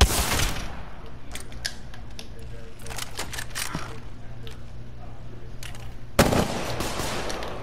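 Gunfire from a shotgun in the video game Apex Legends, a few sharp shots and clicks over a steady low game hum, with one loud blast near the end.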